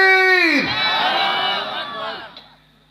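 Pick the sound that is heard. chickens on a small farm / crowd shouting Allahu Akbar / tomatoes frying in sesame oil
crowd shouting Allahu Akbar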